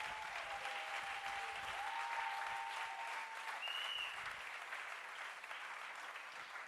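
Church congregation applauding together in praise during a worship service, a dense steady wash of clapping that holds throughout, with a couple of faint sustained tones sounding beneath it.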